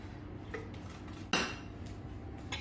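A spatula scrapes down the sides of a Thermomix bowl after chopping onion, giving one sharp scraping clatter near the middle with faint utensil knocks around it, close by and with no talking.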